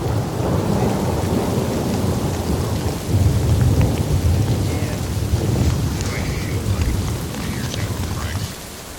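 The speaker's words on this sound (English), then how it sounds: "It's already been raining on this thing for a while now." Rain drums steadily on a tent through a cold night of moto camping, with rolls of thunder in the background and a slight swell around the middle of the stretch; no one speaks.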